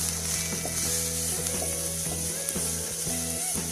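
Chopped onions fry in oil in a pan, sizzling steadily up close, broken by the repeated scrape and clink of a spoon stirring them.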